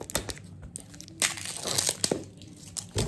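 Plastic supplement packaging for MuscleBlaze L-Glutamine is cut and pulled open up close, giving a string of sharp crinkles, crunches and scrapes in an uneven rhythm with no talk.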